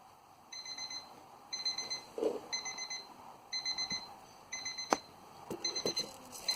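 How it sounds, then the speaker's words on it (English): A timer alarm sounds in repeated bursts of rapid, high electronic beeps, about five groups spaced roughly a second apart, with a few soft knocks and clicks in between. "I set a timer."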